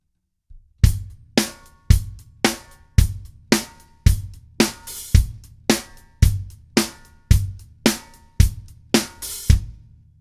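Drum kit groove from a song's verse, a steady punchy rock pattern of kick, snare and hi-hat with an opened hi-hat on the and of 4 every other bar, loud and close over about ten seconds.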